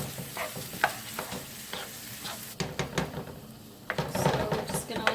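Canned diced tomatoes cook in a pan with a continuous sizzle, broken by repeated scraping and clinking strokes of a utensil that grow busier toward the end.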